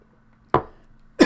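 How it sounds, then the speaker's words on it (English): Two sharp, close coughs blast right into a microphone about half a second apart, with near silence around them. "I think I was coughing right into the mic there."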